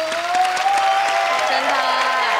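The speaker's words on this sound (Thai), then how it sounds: "อ่ะปรบมือเจอหน่อยค่ะ" A studio audience at a Thai dating show breaks into applause, a dense patter of clapping that carries on steadily throughout, with a voice speaking over it.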